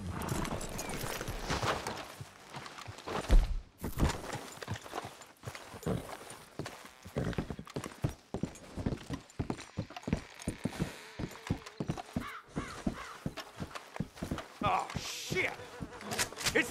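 Horses in Red Dead Redemption 2 clop along at a walk in a steady, close rhythm of hoofbeats, with an occasional snort and voices talking over them.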